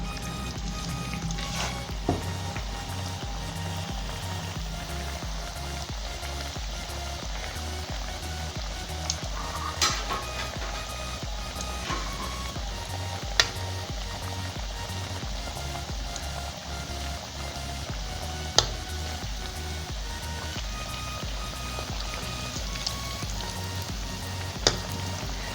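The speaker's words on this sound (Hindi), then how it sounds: "मैं कबाबों को डीप फ्राई कर रही हूँ" Corn kebabs deep-fry in hot ghee in a kadhai, a continuous close crackling sizzle with occasional sharp pops and light stirring clinks throughout.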